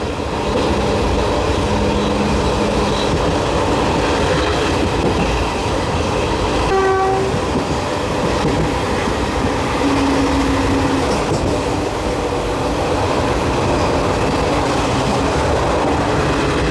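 The Mysuru–Talaguppa Intercity Express rumbles along steadily with wheel clatter and carriage noise, and a short horn blast sounds about midway, heard from on board.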